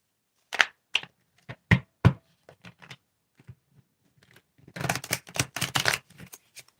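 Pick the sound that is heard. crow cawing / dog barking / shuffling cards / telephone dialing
shuffling cards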